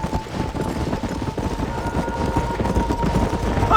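Horse hooves galloping in Red Dead Redemption, a steady rapid pounding running throughout, close and loud, mixed with game background noise and a faint steady tone.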